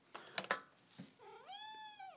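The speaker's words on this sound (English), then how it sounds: "We have a cat who wants them." A domestic cat in a kitchen, a few soft clicks and thumps followed by one clear, rising, drawn-out meow up close, fairly quiet, with no voices.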